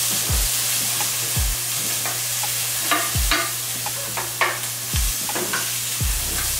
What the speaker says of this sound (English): Onions, peppers, woo, you hear that sizzle? Mix that around.